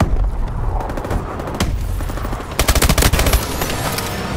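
Rapid three-round bursts of gunfire in the futuristic shooter Call of Duty: Advanced Warfare during a Search and Destroy match, loud and close, with scattered shots early and then a tight cluster of sharp repeated cracks near the middle.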